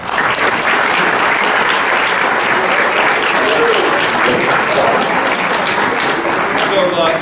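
Audience clapping at a community forum on optimal living, a loud dense wash of applause from a sizable crowd sustained evenly throughout, with some voices mixed in.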